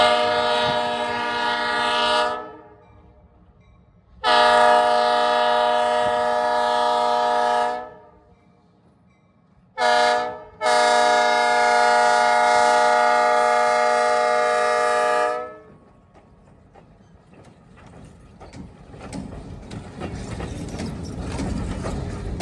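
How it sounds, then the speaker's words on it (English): Freight train on a short line near Miller Road outside Denver, Pennsylvania, sounding two long, loud horn blasts with a brief toot between, then rumbling and clanking past close by as the horn stops. "chasing this train is pretty easy."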